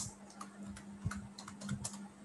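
A computer keyboard is used to type a file name for a C program. Quick, light key clicks come in short irregular bursts against a quiet hum, with no voices.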